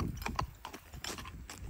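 A loose shoe on a 13-year-old gaited gelding clanks and clops as the horse walks, a few quick uneven metallic knocks over hoofbeats, close and moderately quiet.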